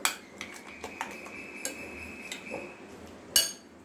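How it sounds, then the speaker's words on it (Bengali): Eggs with black pepper powder whisked for a Spanish omelette, a utensil tapping and scraping against the bowl in light irregular clicks, close and fairly quiet. "এবার এটাকে ভালো করে বিট করে নেব"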